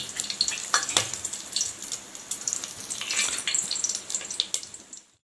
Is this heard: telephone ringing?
no